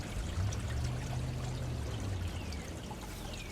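Water pours and drains steadily through a pool filter system during pool opening, a loud continuous rushing flow with a low churning undertone, close by and without talk.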